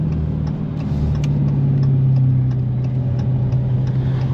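Manual 2023 Dodge Challenger with a 6.4L Hemi, driven with windows slightly open: a loud, steady low engine drone holds through the stretch with a constant rumble and faint ticking, no talking.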